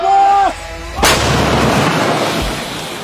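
An artillery gun fires once at the front line with a huge, sharp boom that rolls off into a long rumbling echo, following a brief electronic tone.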